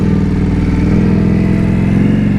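An Indian motorcycle engine runs steadily and loudly close by, its low throbbing exhaust pulsing in an even rhythm throughout, with slight rises in revs and no voices.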